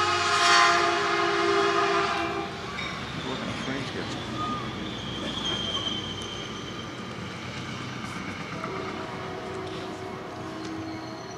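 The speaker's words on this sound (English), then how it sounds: "with a pause for the train" A train passes close by during an outdoor college commencement ceremony, a loud broad rumble with horn-like tones swelling at the start, then a steady roar of cars and wheels continuing throughout as a faint voice carries underneath.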